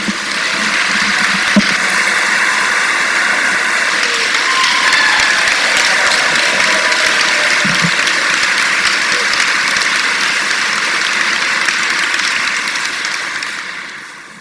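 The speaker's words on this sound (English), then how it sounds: "So a big round of applause for the choir." Sustained applause from a concert audience for a community choir performing with a chamber orchestra, a dense, even roar of clapping that holds steady for the whole stretch before tapering slightly at the end, with no talking.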